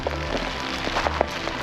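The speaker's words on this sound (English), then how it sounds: "Oh my God, are we getting hailed?" Hail falling in Iceland, a scattered patter of small hard hits over a low rumbling background, irregular and fairly close.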